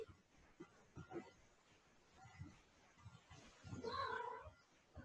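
A cat meows during a gentle yoga session at home, with a clear drawn-out meow near the end after softer vocal sounds, under quiet speech from an instructor.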